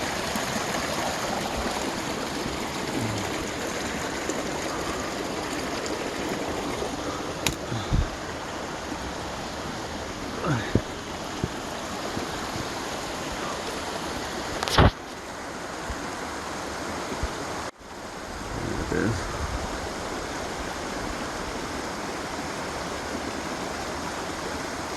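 Continuous roar of a waterfall above a backpacking camp on the East Inlet Trail in Rocky Mountain National Park, a steady close wash of falling water with a few brief knocks and handling bumps.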